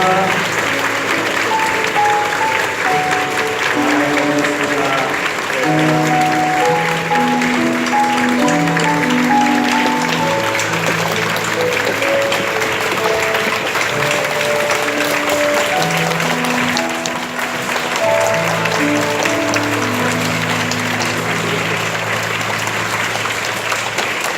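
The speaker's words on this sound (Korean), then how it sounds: "여러분 퇴장할 때 큰 박수로 여러분 끝까지" Sustained applause from a church congregation fills the space, steady and loud throughout, with organ or keyboard notes playing over the clapping.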